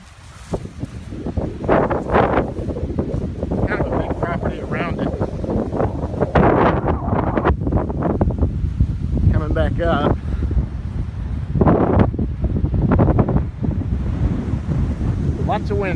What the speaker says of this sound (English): Lots of wind today.